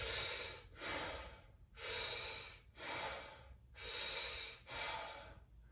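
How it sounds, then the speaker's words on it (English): A person demonstrates chest breathing with deep, audible breaths, three slow inhale and exhale cycles, close and airy, with no talking. "That's chest breathing"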